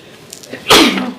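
A single sneeze bursts out sharply at a school board and budget committee meeting, preceded by a faint catch of breath and trailing off quickly in a quiet room.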